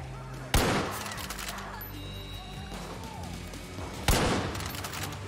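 Two loud, sharp gunshots in Far Cry: New Dawn, spaced a few seconds apart, each ringing out over a steady low game ambience with a few fainter clicks between.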